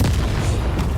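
A Confringo blasting spell exploding in the wizarding game Hogwarts Legacy, a loud, dense booming blast that fills the whole second with heavy low rumble and broad crackling noise.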